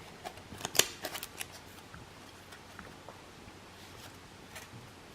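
A deck of Magic: The Gathering cards is shuffled by hand, giving a quick burst of crisp riffling snaps near the start, then softer scattered taps and rustles, all close and quiet.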